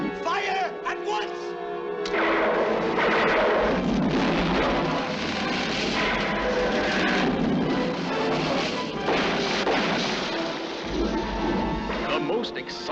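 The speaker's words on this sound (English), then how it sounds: "And then suddenly we have a big shootout." Dense, continuous gunfire and crashing impacts from a big shootout scene in the 1978 undersea adventure film The Amazing Captain Nemo, loud and sustained throughout, with voices shouting beneath the din.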